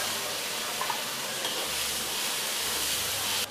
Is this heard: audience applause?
no